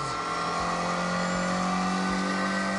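Twin-cam 1.6-litre car engine in The Grand Tour Game held at a high, buzzing rev, a loud continuous drone with no pause.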